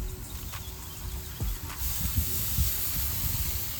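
Five marinated pieces of meat sizzling on a grill, a steady close hiss and spatter with scattered pops, no talking.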